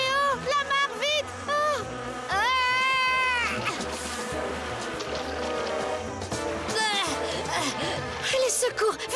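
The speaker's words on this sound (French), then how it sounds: "Un essaim d'abeilles?" Swarm of bees in a French animated cartoon, a loud buzzing drone with rising and falling whines, mixed with excited cartoon voices talking and crying out.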